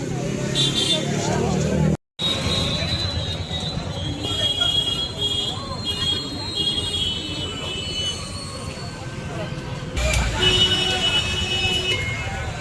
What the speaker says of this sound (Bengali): প্রচুর গাড়ি ঘোড়া।